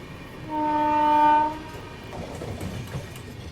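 The Indore Daund Express gives a loud, steady horn blast for about a second, followed by the rumble and clatter of the running train, with no talk.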